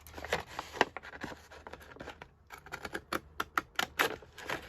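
Cheap, kid-style scissors snip paper in a zigzag pattern, giving a run of close, sharp crisp cuts in quick irregular bursts with a brief pause midway.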